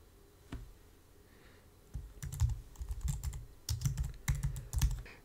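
Quiet clicking on a computer keyboard while typing a Gmail signature name. One lone tap comes first, then steady runs of close keystrokes arrive in short bursts.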